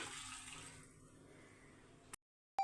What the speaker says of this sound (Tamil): இப்போ வந்து இந்த தண்ணியை இதில் சேர்த்துடலாம்